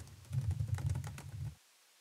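Quick typing on a computer keyboard while text goes into a spreadsheet box: a short burst of soft, rapid key clicks at moderate volume that stops abruptly into silence.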